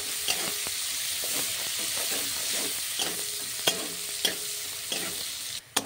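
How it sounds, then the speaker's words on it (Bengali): Chopped onions sizzle steadily in hot oil for masala bhindi while a spatula stirs them, its scrapes and taps landing every second or so over the constant frying hiss; close and continuous, no voices. "পেঁয়াজ কুচিগুলো আমি দিয়ে দিলাম, দিয়ে ভালো করে একটু ভাজা ভাজা করে নেব"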